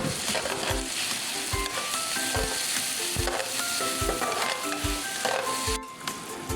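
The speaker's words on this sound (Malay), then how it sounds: "Kita tumiskan sampai dia kekuningan." Garlic and onions sizzle and crackle steadily in a hot pan, with a soft rhythmic scrape of stirring repeating under the frying.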